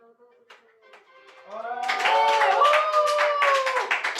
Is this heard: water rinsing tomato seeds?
no